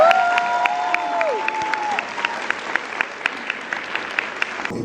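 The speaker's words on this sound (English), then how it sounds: "and so we want to give him a big round of applause." Audience at a psychedelic science convention panel applauds steadily, a dense wash of clapping with sharper individual claps standing out, while a faint sustained tone fades early on.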